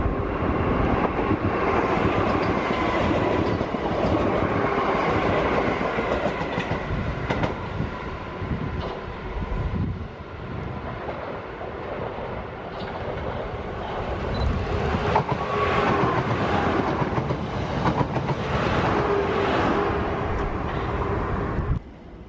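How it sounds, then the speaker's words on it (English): Freight trains and passenger units run on the rail line at Denmark Hill and Clapham High Street in London, with a steady, loud rumble and wheel clatter continuing for over twenty seconds and no talk. "I don't know where these trains have come from or where they're going to."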